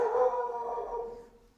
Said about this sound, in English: There's another dog outside. That's why Stitch is going nuts.